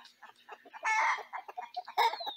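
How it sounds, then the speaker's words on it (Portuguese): Free-range hens perching at roost on a farm in Palmas, Bagé, Rio Grande do Sul, clucking and squawking in a close, busy chorus with two louder cackling bursts. "Vamos ver se sobe mais algumas galinhas aí."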